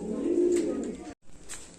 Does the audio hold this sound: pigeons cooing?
yes